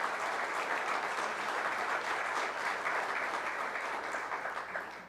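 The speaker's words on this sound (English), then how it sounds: "let's give the elected officials that are here a nice round of applause." An audience at a citizen meeting claps for elected officials, a steady dense wash of applause lasting several seconds before tapering off slightly at the end.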